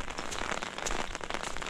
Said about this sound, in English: This is certainly a significantly greater amount of rain than what was forecast